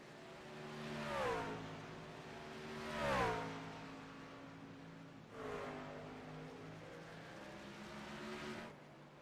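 Race trucks roar past one after another on the Charlotte Motor Speedway Roval, engines swelling and fading as each car passes at a distance, with steady engine drone in between.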